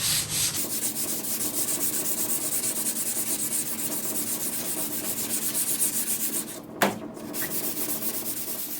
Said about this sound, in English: I'm sanding both sides, which are high, and bringing them down to try to get it nice and even